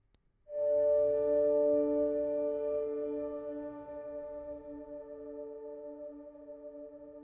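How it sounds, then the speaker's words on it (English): A single sustained chord on an ambient grand piano virtual instrument, the Nor piano, struck softly and left to ring, its tone slowly decaying over several seconds with no other sounds. "And my favorite, the Nor piano, the grand, ambient grand,"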